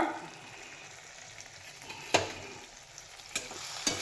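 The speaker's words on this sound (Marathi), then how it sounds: "आता हे सगळं मिश्रण अशा वेळे प्रत्येक वेळी आपल्याला वर खाली करून घ्यावं लागणार आहे" A tomato curry mixture is stirred in a frying pan while roti cook alongside, with steady scraping and soft sizzling throughout and a few sharper utensil knocks against the pan.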